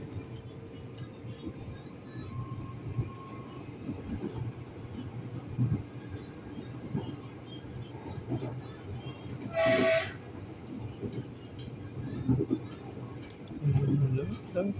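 The Argo Sindoro Satria Mas train passes near Cakung station in Indonesia, a steady rolling rumble of wheels on rail with a brief horn blast midway, heard from a nearby commuter train cabin.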